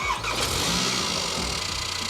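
An imported car with a suspected misfire starts up, a short crank followed by a steady, slightly rough idle heard up close with no talking.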